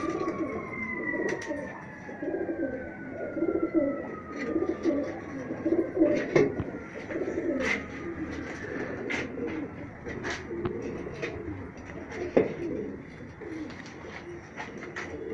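High-flyer pigeons coo in soft, repeated rolling calls close by, in Rajsamand, Rajasthan, with a distant siren wailing faintly in the background.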